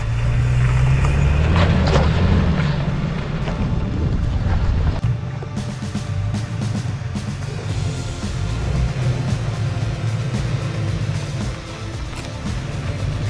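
A Toyota off-road vehicle crawls slowly over rocks on a high-altitude Colorado trail, its engine rumbling low and steady up close with wind buffeting the microphone throughout.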